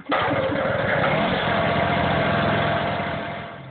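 A small fuel-powered mini generator runs steadily and loudly with a constant buzzing drone, its sound slightly fading near the end.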